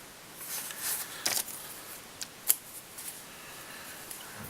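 Scissors snip through a bunch of red fox fur at a fly-tying bench, a few soft close crisp cuts spread over several seconds with quiet gaps between.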